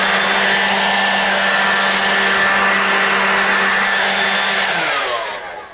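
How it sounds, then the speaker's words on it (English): Black and Decker battery-powered standard leaf blower with an interchangeable battery, used outdoors around a pool. It gives a loud, close, steady airy whine with a motor hum, then winds down and fades at the end, with no voices. "this is the Black and Decker standard blower with the interchangeable battery"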